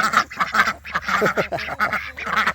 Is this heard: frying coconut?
no